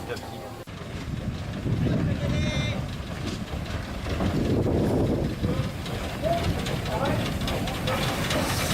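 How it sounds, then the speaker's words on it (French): Heritage train on the Baie de Somme railway rolling into Saint-Valery-Canal, a steady low rumble and clatter of wheels and engine with wind, a brief whistle-like tone early on, and voices talking over the noise. "Une fois la digue dépassée, le train arrive à Saint-Valery-Canal"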